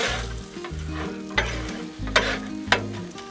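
Eggs, peppers and bacon are stirred together on a hot Blackstone griddle, a steady close sizzle broken by a few sharp scraping strokes of a spatula on the flat-top.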